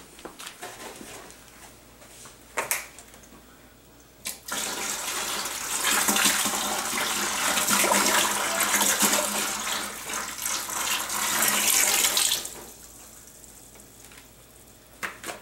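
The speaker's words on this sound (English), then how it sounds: "I'm adding the hot sugar water to my ferment bucket" Hot sugar water pours steadily into a fermenting bucket for home winemaking for several seconds, a broad rushing splash that swells and then stops, with a few handling knocks before and after.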